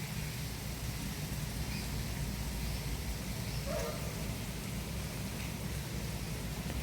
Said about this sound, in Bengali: বর্ষা পড়ছে